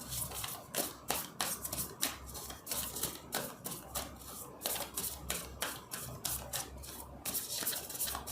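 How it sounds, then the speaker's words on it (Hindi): Tarot cards being shuffled, a repeated papery riffle and slide in quick irregular bursts, close and moderately loud, with no voices. "मैं आपके लिए यहाँ से गाइडेंस के लिए कार्ड्स निकालती हूँ"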